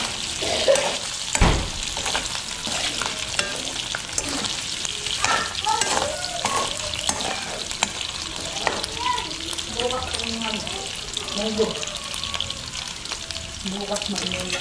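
Garlic, onion and pork blood frying in a pan for dinuguan, a constant sizzle with stirring clatter and a sharp knock early on, while a person talks over it.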